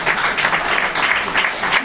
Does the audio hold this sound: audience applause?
yes